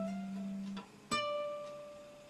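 A chord rings out on a fretted stringed instrument in a beginner lesson, following a single sustained note; the struck chord sounds bright and clear, then decays slowly in a quiet room.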